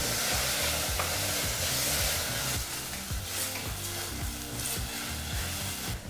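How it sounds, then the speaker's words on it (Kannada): Chopped tomatoes sizzle steadily in a pan over a medium flame while a spatula stirs and scrapes in a quick, even rhythm, close and fairly loud, with no talking. "ಟೊಮೊಟೊ ಹಣ್ಣನ್ನು ಸಹ ಎರಡು ನಿಮಿಷಗಳ ಕಾಲ ಮೀಡಿಯಂ ಫ್ಲೇಮ್ನಲ್ಲೇ ಫ್ರೈ ಮಾಡ್ಕೋಬೇಕು"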